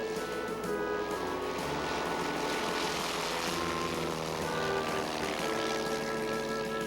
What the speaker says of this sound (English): Come on, let's take this old plane for a short ride.